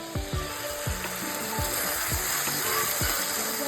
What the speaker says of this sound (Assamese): আগতে আলু আৰু পিঁয়াজখিনি ফ্ৰাই কৰি লওঁ